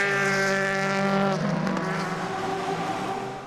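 Endurance race cars at Spa-Francorchamps accelerating back to speed after a full course yellow, a loud close engine howl climbing in pitch and then fading as the cars pull away.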